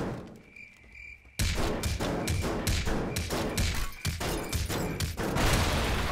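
A giant watermelon bursting apart in the video game Teardown: after a quiet start, a sudden heavy crash followed by a rapid string of thuds and cracking impacts, loud and close.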